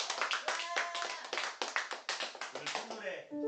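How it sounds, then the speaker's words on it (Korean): An audience at a poetry talk show claps in a burst of applause, dense and steady, then thinning toward the end, with a voice speaking over it. "다시 한번 박수가 필요합니다."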